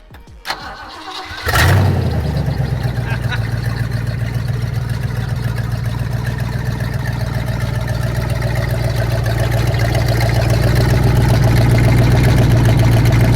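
A pre-1966 classic car at a San Diego car meet, its engine running through an open header with no muffler, cranks and fires, then settles into a loud, rough, steady idle up close.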